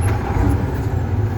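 Steady low, rumbling tractor engine noise running continuously at close range, with a broad, even drone and no speech, while a learner double-clutches and shifts gears on the tractor.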